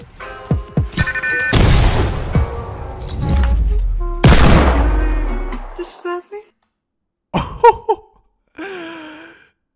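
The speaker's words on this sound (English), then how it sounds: "That's a 200 meter shot with a Desert Eagle." Desert Eagle hand-cannon shots from a long-range Fortnite sniping moment, two heavy booming blasts ringing out and decaying over a busy game mix, followed by short bursts of voices and game sounds.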